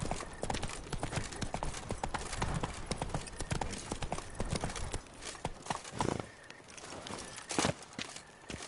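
Steady hoof clip-clops from Roach, a horse in The Witcher video game, walking at an even pace, close and continuous, with a brief lull before the steps resume.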